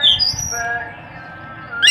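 Black-naped oriole (kepodang), a Madura bird offered for sale, gives a short whistled call with squawky tones, heard close up for about two seconds with no voices over it.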